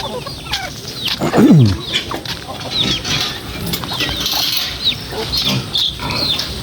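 Chickens and turkeys on a small farm, with scattered clucks and bird calls at close to moderate range, a brief loud squawk or gobble near the start, and steady barnyard activity throughout.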